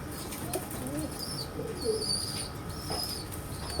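A pigeon hen coos softly in a few low, rolling calls amid steady background noise, with faint higher chirps from other birds nearby.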